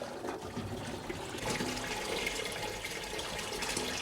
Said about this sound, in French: l'opération s'effectue avec un tuyau d'arrosage